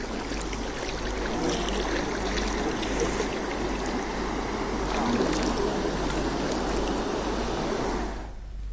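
Floodwater from heavy rain surges over roads and canals in villages of Andhra Pradesh, a steady, loud rushing with no pauses, fading slightly at the end.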